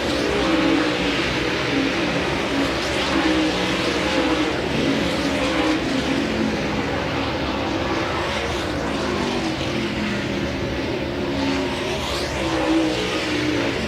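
Dirt track race cars at Volusia Speedway on a final hot lap, a steady loud roar of engines at speed rising and falling as they pass, no talk.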